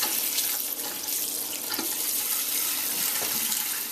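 Rice being rinsed under a steadily running kitchen tap, a continuous close splashing wash of water into a sink with faint shifting grain sounds and no voices.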